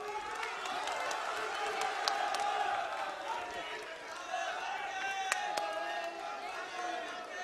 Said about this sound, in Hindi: राहुल जी का जोरदार तालियों के साथ अभिनंदन।